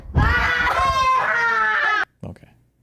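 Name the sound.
woman screaming on stream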